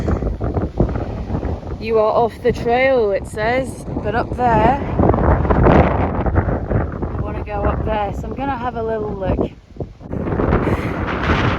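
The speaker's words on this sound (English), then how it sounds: "Sorry about the wind." Heavy wind buffets the microphone throughout on a steep mountainside, a loud low rumble under someone talking close by.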